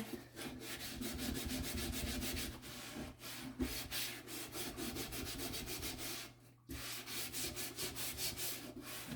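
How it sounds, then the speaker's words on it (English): Dish scrubbed hard with the abrasive scrub side of a sponge, working into the corners; continuous close rasping rubs in steady strokes, with a brief pause near the end before scrubbing resumes. "lots of pressure with that scrub side. Get into the corners there."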